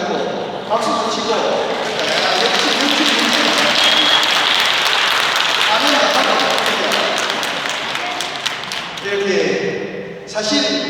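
A lecture audience claps steadily through a talk on a Lent special lecture, the applause sustained and fairly loud with a spoken voice partly heard alongside it.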